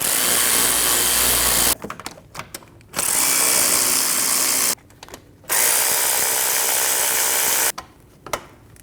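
A power tool runs in three loud bursts of a couple of seconds each, with short ratcheting pauses between, as it snugs down the alternator bolts on a 2.5-liter five-cylinder Volkswagen Passat.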